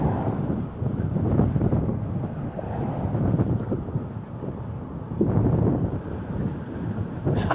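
Strong wind roars steadily and close against the microphone in hilly country, buffeting in loud gusts with no voices.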